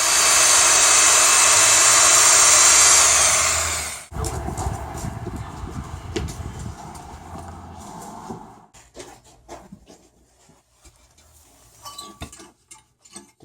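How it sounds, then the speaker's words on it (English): A power drill bores a hole into the cut end of a Christmas tree trunk, a loud, steady whirring burst of about four seconds that stops abruptly. Scattered knocks and clicks from handling the tree follow. "So we're drilling a hole in the end"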